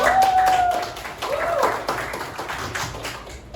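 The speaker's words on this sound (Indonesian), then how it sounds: "Tepuk tangan Aulia" A classroom of students claps for a classmate, a short scattered round of hand claps beneath a teacher's voice that rings out at the start.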